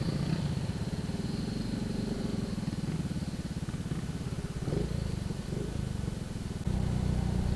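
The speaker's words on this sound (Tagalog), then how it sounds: "Yan, umungol na ang aking motor." A Yamaha Mio i 125 scooter engine groans steadily while descending a steep hill under engine braking, a close, continuous low drone that holds throughout.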